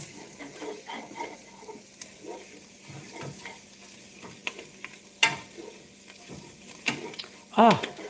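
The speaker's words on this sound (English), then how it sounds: "So I'm going to add also the spring onions and saute it a bit." Spring onions and herbs sauté in a pan, a soft sizzle under scattered stirring clatters and utensil knocks, with a sharp clink near the end.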